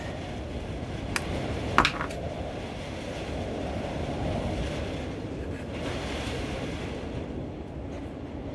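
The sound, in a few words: wind blowing outdoors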